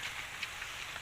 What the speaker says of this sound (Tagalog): Labay ra daw ning ulan na.